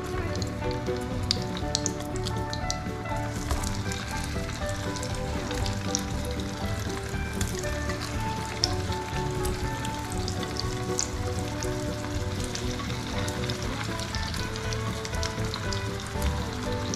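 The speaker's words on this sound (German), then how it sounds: "das sind die fertig geformten Hechtfrikadellen. Die kommen jetzt mal schön in die Pfanne rein hier." Pike fish patties sizzle steadily in a hot frying pan, a dense, continuous crackle of fat that stays close and even throughout with no talking.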